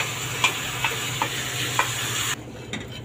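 Onion that has turned golden fries in a pan with very small diced tomatoes, giving a close, steady sizzle with a few sharp stirring clicks before the sound cuts off to a quieter hiss.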